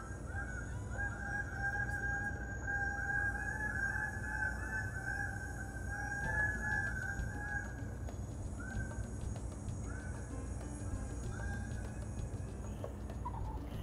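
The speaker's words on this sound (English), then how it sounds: "This is the sound of the bird of paradise," Loud, nasal honking calls of a bird of paradise repeat in a series of drawn-out notes over a steady outdoor hiss, with scattered calls farther away.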